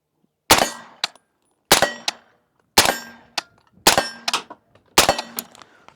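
Five suppressed 300 Blackout gunshots through a Dead Air Primal suppressor, fired from a budget short-barreled PDW rifle, each a sharp loud crack with a metallic ring and a quick follow-up clank, spaced about a second apart.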